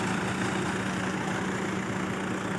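Tractor engine idling steadily while supplying water in a Pakistani village, a low continuous rumble heard alone at moderate distance.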